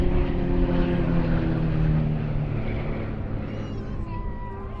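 Extra EA330LX propeller aerobatic aircraft of the Royal Jordanian Falcons roar past at the Duxford summer airshow, a loud droning engine note that slowly fades as they cross the display centre.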